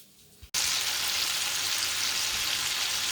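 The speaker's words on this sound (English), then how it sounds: "I'm frying up this Italian sausage" After a quiet moment, a loud, steady sizzle of Italian sausage frying in a pan begins abruptly and continues without pause.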